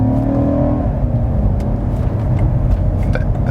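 A 2019 BMW M5 G30 engine pulls hard after a downshift, its loud, steady roar filling the cabin with a brief rising note at the start and no talk over it.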